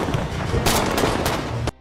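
A loud, dense blast from an action film as an ambush erupts after two friends plant explosives, a sustained roar of booms and rapid gunfire-like cracks lasting over a second before cutting off abruptly.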